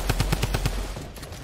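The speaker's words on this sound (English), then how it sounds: "I'm gonna shoot him." Automatic gunfire in the Fortnite video game: a rapid, loud burst of about six evenly spaced shots, then a fading tail with no talking.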